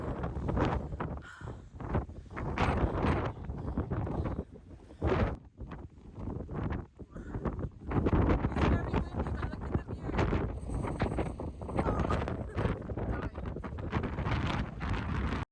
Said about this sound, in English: As you can tell, it was super windy that day.